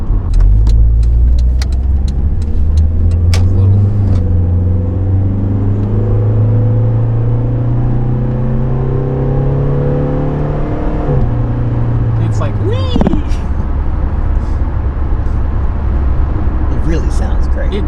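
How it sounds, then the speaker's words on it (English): A 1988 Honda Accord LXi four-cylinder engine hums steadily and climbs in pitch as it accelerates, then drops and revs again, with people talking over it. "Great sounding four-cylinder"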